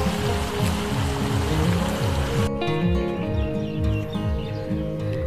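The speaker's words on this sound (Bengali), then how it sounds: "বিউটিফুল ঝর্ণা।" A waterfall at an attraction in Rangpur pours with a steady, loud rushing wash, while a repeating low, rhythmic tone plays throughout.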